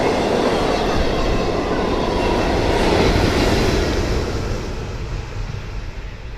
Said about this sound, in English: It's the sound of a train coming through with full speed.